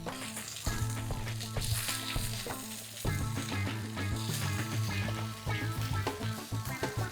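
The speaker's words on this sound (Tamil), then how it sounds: "தேங்காய் எண்ணெய் கொஞ்சம் ஊற்றி வெங்காயம் பூண்டு அதெல்லாம் வணக்கிடுவோம்." Onion, garlic and ginger frying in coconut oil, a dense, steady sizzle close to the pan with faint stirring underneath, and no talking.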